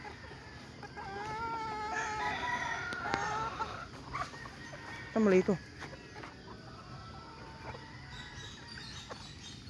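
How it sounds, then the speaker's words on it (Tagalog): Chickens and roosters at a game fowl farm, with a rooster crowing and birds clucking at moderate distance while someone speaks over them, plus a brief louder burst of clucking partway through. "Daming manok."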